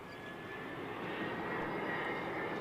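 An EasyJet airliner inbound from Basel to Barcelona El Prat passes with a steady jet engine roar that swells slightly, heard alone at a moderate distance.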